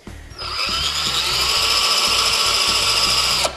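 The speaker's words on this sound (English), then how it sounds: "I've put this screw about halfway into pressure-treated lumber now" A power drill drives a screw into pressure-treated lumber, starting after a brief pause and then whining steadily at high speed with a strained motor tone, close and loud, cutting off abruptly at the end.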